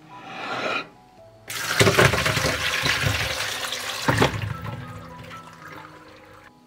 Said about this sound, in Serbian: Nakon 20 minuta prosuću vodu.